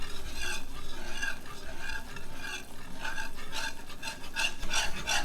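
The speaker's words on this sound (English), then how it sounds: "just keep whisking." A whisk scrapes rapidly and rhythmically around a pan off the heat, beating a mixture in a busy, continuous swishing clatter close by.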